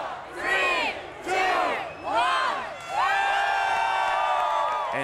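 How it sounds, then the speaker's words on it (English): Huge New Year's countdown crowd at Sydney Harbour ringing in 2009, roaring and cheering in loud surging waves, several rising swells of shouts that build into a sustained massed roar near the end. "cheering the moment when we welcomed 2009"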